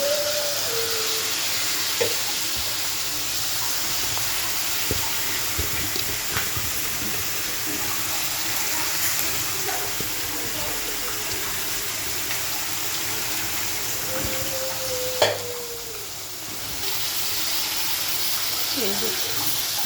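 Sliced flat beans, eggplant and drumsticks are dropped into spice paste already frying in a pan for a fish curry, giving a continuous loud sizzle that lasts throughout, with a few faint clinks.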